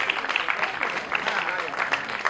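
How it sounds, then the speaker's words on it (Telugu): An audience claps at a New Year and Sankranti celebration, with dense, continuous applause filling the room at moderate volume for a couple of seconds. "కొంచెం గట్టిగా చప్పట్లు కొట్టాలండి."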